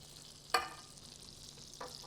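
Butter and olive oil hit a hot pan with a sudden sharp sizzle burst, then settle into a faint steady frying hiss, with a second softer flare of sizzling near the end; no one speaks.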